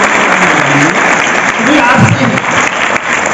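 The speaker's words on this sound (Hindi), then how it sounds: "तो एक बार तो फिर बनती है ताली आपने लिए" Audience applause at an awareness camp for students, a broad wash of clapping filling the clip at steady loudness, with a voice speaking over it briefly.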